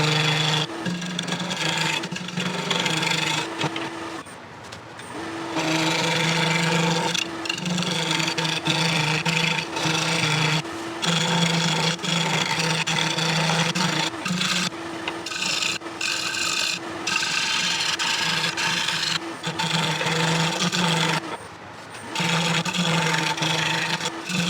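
A rosewood bowl turns on a lathe while being smoothed, making a loud, steady, continuous rasping and rubbing with a few brief dips, close and without talk.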